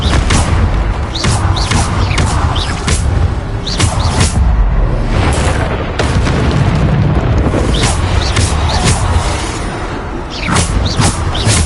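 Bombarda blasting spell in Hogwarts Legacy, a run of loud, heavy booming explosions with sharp bursts arriving every second or so amid constant rumbling combat noise.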